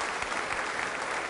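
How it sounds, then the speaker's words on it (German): Loud, dense studio audience applause on a 1981 German television variety show recorded in Bürstadt, continuous clapping close and full with no talk. "das ist ihr Applaus"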